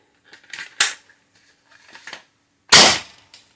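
A modified foam dart blaster with a brass barrel and an O-ring seal fires at close range, a few short sharp pops separated by quiet gaps, with one loud snappy shot near the end.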